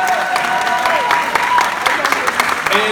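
Sustained clapping from a crowd honoring cast members at a Harlem series premiere, loud and continuous with scattered cheers and shouts mixed in.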